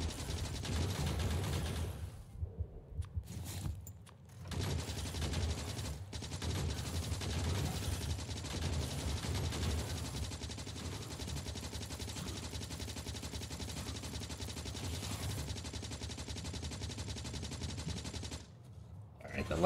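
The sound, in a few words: gunfire shooting enemies in Factorio video game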